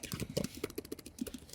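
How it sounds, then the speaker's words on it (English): Fingers type quickly on a Mac keyboard, giving a brief patter of soft key clicks close by in a quiet room. "I'll just type in,"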